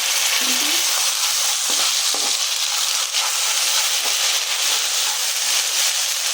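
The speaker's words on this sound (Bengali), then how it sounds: "এখন পেঁয়াজ মরিচটা আমি হালকা একটু বাজবো হালকা মানে একটু নরম করব" Chopped onion and chili frying lightly in a pan of oil for a pointed gourd and prawn dolma, giving a steady, close hiss and sizzle throughout with a few soft stirring knocks.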